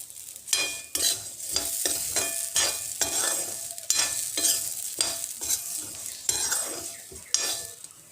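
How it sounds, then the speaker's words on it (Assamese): Flattened rice frying in a wok is stirred briskly, a close rhythmic series of metal scrapes and tosses over a continuous dry sizzle, repeating about every half second. "আমি অকনমান কালাৰটো চেঞ্জ নোহোৱালৈকে ভাজি থাকিম"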